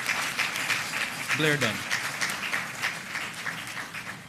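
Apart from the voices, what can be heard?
audience applause for award winner Paula Dunn Blair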